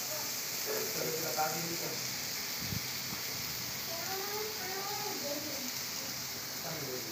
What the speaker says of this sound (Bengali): আমি আলু পটল ভেজে নিয়ে সেই তেলেই সয়াবিন দিয়েছি